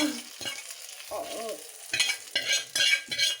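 Hot oil sizzles and crackles in bursts as a tempering hits cooked mustard greens, with stirring scrapes between, close and fairly loud.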